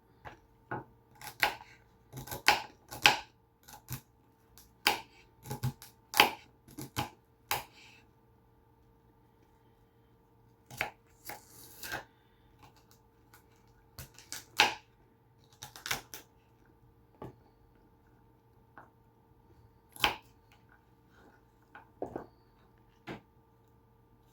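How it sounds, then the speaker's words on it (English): Irregular bursts of knife chops on a cutting board, quick clusters of sharp taps separated by short pauses, fairly close and crisp. "I'll just have to just chop it up a little bit."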